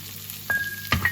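Brussels sprouts being tossed in oil in a hot pan, a soft sizzle broken by a few quick stirring scrapes and clatters, close and without voices.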